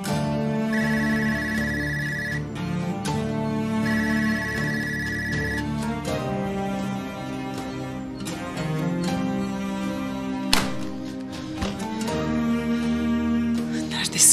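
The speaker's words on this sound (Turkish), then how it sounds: "Aç şu telefonu Ferhat, aç." A telephone rings over a continuous music score in a Turkish TV drama, the repeated ring bursts sitting high above sustained tones, loud and steady throughout.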